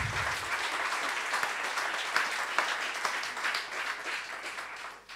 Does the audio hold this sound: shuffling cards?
no